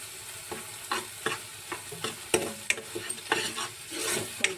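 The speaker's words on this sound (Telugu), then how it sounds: "ఇదిగోండి ఫ్రై అయ్యింది బాగా ఫ్రై అయిపోయింది" Baby potatoes frying in a pan with yogurt for masala curry, a soft sizzle beneath repeated scraping and stirring strokes of a utensil against the pan, close and moderately loud.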